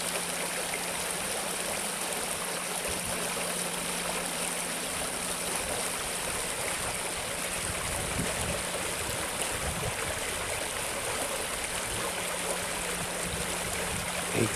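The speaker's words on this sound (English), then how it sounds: "Hay Creek is sure running fast." Hay Creek rapids run fast: a constant, full rush of churning water, close and steady throughout with no voices.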